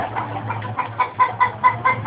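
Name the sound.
chickens clucking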